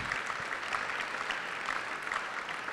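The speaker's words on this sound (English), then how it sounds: "Can we give, before we get some fan questions, can we give a 60 Days of Summer round of applause for Ryan Arcidiacano?" An audience at a fan event gives a round of applause, with dense, steady clapping that stays even and continuous for about three seconds, moderately distant.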